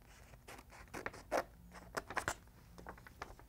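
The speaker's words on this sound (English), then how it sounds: "cut a transfer away" Scissors cutting heat transfer paper for hard surfaces, with several short quiet snips and rustles, close up.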